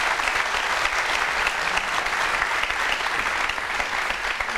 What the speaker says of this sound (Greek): Έλα ένα χειροκρότημα για Θεσσαλονίκη.